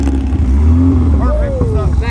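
Classic Porsche race car engine settling from a rev down to idle, a mid-pitched mechanical drone falling in pitch over two seconds, with someone talking over it.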